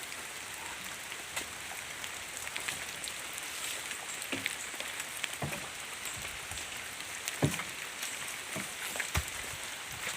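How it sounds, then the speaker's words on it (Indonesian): Steady rain falls on an oil palm plantation, a continuous dense hiss with scattered louder drops and taps striking nearby surfaces, heard alone without voices. "Hujan-hujan dari tadi hujan."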